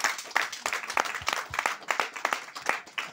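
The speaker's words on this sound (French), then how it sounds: "On peut applaudir fort les soignants" A live audience gives caregivers a round of brisk, fairly close clapping, steady and continuous throughout, with a murmur of crowd underneath.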